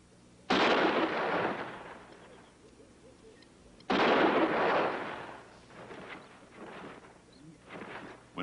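Rifle fire from buffalo hunters shooting: two loud, booming shots a few seconds apart, each rolling off in a long rumbling echo, followed by fainter distant reports.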